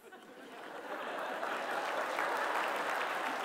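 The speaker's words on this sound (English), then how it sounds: "You shouldn't clap about that." Audience at a TEDx talk starts clapping softly and swells into steady, moderately loud applause, with a few chuckles mixed into the crowd.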